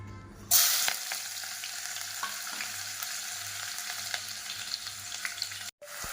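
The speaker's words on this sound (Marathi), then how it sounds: "हा कांदा मी फ्राय करून घेते" Chopped onion sizzles steadily in a hot pan, frying for a chicken biryani, with a few light stirring clicks over the continuous crackle and a brief drop-out just before the end.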